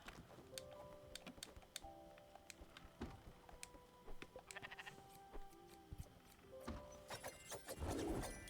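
Several short sheep bleats sound from farm animals in the video game Spiritfarer during shearing, spread irregularly among clicking and tapping noises, with a busier cluster of sound near the end.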